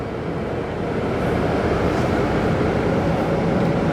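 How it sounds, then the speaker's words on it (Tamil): Tata 1618 bus engine running steadily, a constant low rumble heard from inside the bus, with no talk over it. "இன்ஜின் நாய்ஸ் வந்து லைலாண்டு மாதிரியே தான் இருக்குதுங்க"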